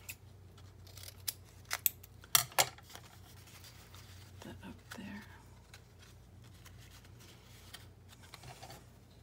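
Scissors snip the ears off a piece of glittered paper in a quick cluster of sharp, close cuts, followed by softer paper handling and quiet rustling.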